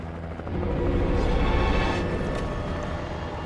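A helicopter in the video game Alan Wake gives a steady, loud, low rumbling drone that swells after the first half-second and holds throughout, with no voices over it.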